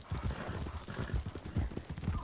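Horse hooves clip-clopping in the video game Red Dead Redemption 2, a quick, even rhythm of soft thuds at moderate distance, steady throughout with no talk over it.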